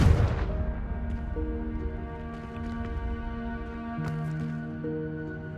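A Confringo blasting spell in Hogwarts Legacy bursts with a deep, loud boom at the very start, then decays into a sustained ringing magical tone beneath a quiet game soundscape.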